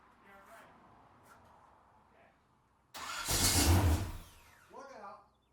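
A 1951 Chevrolet truck engine cranks and catches with a loud, close roar lasting about a second, then settles and fades, followed by a brief sputter; voices murmur faintly beforehand.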